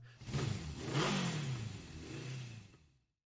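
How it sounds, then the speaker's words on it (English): A motorcycle roars past in the visual novel Vanargandr, its engine revving up and sweeping by for about three seconds before cutting to silence, with no talk over it. "Was that a fucking motorcycle sound effect I just heard?"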